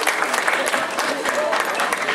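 Dense clapping from an outdoor crowd continues at the opening of the 21st Turíčny jarmok village fair, steady and fairly loud with some talk mixed underneath.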